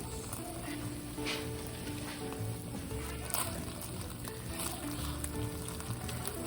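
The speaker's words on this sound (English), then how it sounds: "I'm just gonna keep stirring and mixing so that the cream cheese melts into this" Cream cheese melting in a pan while being stirred and mixed, giving a steady close sizzle with soft scraping throughout and no talking.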